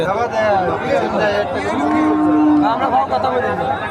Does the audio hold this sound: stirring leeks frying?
no